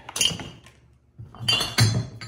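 Glass jug from an auction lot clinking as it is handled, with two clusters of bright, close knocks and clinks separated by a short pause.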